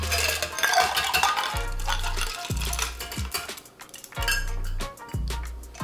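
Ice rattles and clinks against glass as a spoon stirs a tequila cocktail with agave syrup, repeated bright jingling swirls close up, with no talking.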